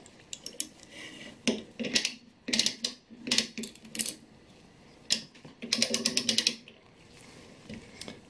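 Mainspring of a German Westminster Glocken-Speil Model 107 wall clock being wound with a ratchet winder, giving bursts of rapid metallic clicking in several separated runs, close and crisp, with pauses between turns.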